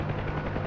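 A helicopter rotor in the DCS World flight simulator gives a steady, droning hum during a hover, continuous and even throughout the short stretch with no voices.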